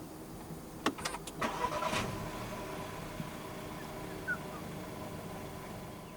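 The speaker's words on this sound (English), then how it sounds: "press the start button located right down here." A 2022 Volkswagen Tiguan Allspace 1.4 TSI Elegance is started with a push button: the starter cranks briefly, the engine catches with a quick rev, then settles into a quiet, steady idle.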